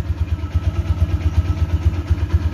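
Close, loud idle of an MP Primus motorcycle engine, a slow, even low-pitched throb with a faint mechanical clatter above it and no voices.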